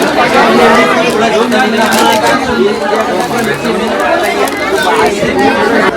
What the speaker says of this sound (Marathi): खूप गर्दी गर्दी बघा